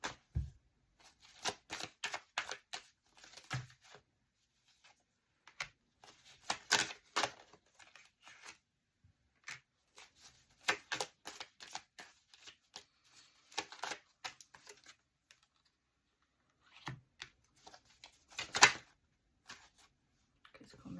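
Tarot cards are shuffled and handled in irregular bursts of riffling and slapping, close and fairly quiet, with short pauses between flurries and no clear talk.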